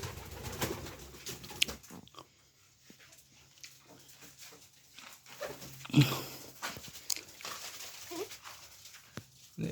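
Pigeons in a home loft with nesting pairs and eggs, soft low cooing heard in short bursts amid quiet rustles and scattered faint noises, fairly close.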